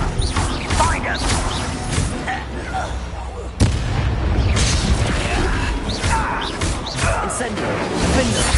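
A fiery Incendio spell blast in the Hogwarts Legacy video game on PS4, a sharp burst of crackling, whooshing combat noise under dense game sound effects and music.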